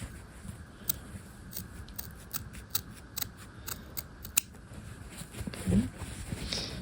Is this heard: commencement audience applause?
no